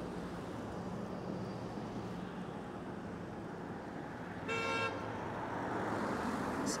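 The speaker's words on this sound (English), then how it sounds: "Someone's getting honked at for driving too slowly here." A car horn honks on a Quebec City street in the Saint-Roch and Limoilou area, a single sustained blast midway through, loud over steady traffic and street noise.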